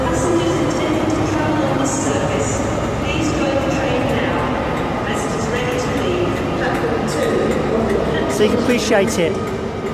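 Class 43 diesel train rumbling and clattering beside a station platform, a steady mechanical roar with faint higher squeals, heard under someone talking nearby.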